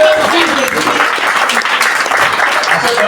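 A church congregation at a seminar with a pastor bursts into loud, dense, continuous applause mixed with cheering and voices, filling the room steadily from start to finish.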